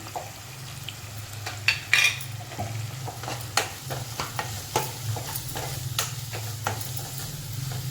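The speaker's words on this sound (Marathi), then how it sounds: "व्यवस्थित त्याला परतून घेऊया आपण मसालाही व्यवस्थित परतून झालं आहे" Masala with turmeric and coriander powder and onion-garlic spice mix being sautéed in a pan for a brinjal curry: steady sizzling frying with repeated scraping stirs and spatula clinks against the pan, close and alone.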